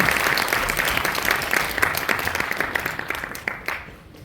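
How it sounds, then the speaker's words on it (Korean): An audience applauds to welcome guests taking their seats on a legislators' panel about Seoul redevelopment and reconstruction, a dense, steady wash of clapping that thins and fades toward the end. "여러분 박수로 함께 환영해 주시면 고맙겠습니다"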